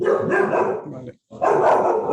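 A dog barks at close range, two loud barks separated by a short silence, with a person talking at the same time.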